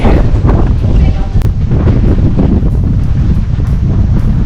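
Strong wind at Sigiriya, Sri Lanka, buffets the microphone with a loud, continuous, low rumbling roar and gusty bursts throughout.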